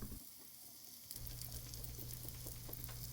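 Brown sugar and sliced bananas frying in a pan for a pancake topping, sizzling steadily and up close, the sizzle jumping louder about a second in and holding with light crackles, no voices.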